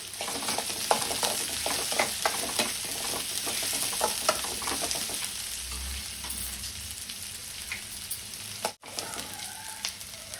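Onions being stirred in a hot frying pan while cooking a masala bitter gourd dish, a steady close sizzle with scraping spatula strokes throughout and a brief drop near the end.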